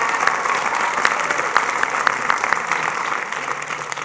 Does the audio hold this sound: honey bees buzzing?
no